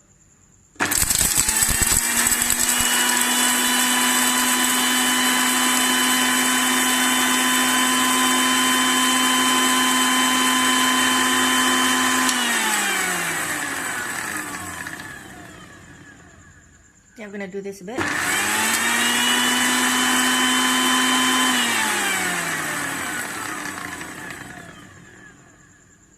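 A Panasonic MX-AC400 mixer grinder grinds chutney in its jar with a loud, steady motor whine that runs down, stops briefly, then starts again for a second long run, with a short spoken remark.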